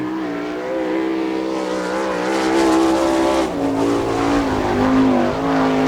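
A sprint car at Attica, Ohio, during an All Star Circuit of Champions time-trial lap, its engine roaring loud and steady, pitch swelling and dipping through the corners as it circles the track.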